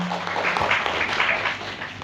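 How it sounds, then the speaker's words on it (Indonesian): Audience applause at a seminar event, a dense steady wash of clapping running the full length without clear breaks, with a brief low hum at the start. "Tepuk tangan untuk Anda semuanya."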